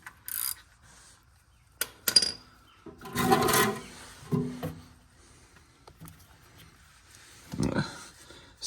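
Ratchet with a 3/8 inch drive and 17 mm socket breaking loose the oil drain plug on a 2014-2018 BMW X5 35i, heard as scattered close clicks and scrapes in bursts, with quiet gaps between them.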